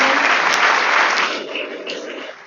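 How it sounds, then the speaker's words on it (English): Audience at a school's annual play gives a teacher a big round of applause, a dense, loud burst of clapping that holds, then thins and fades toward the end. "I think Sir deserves a big round of applause."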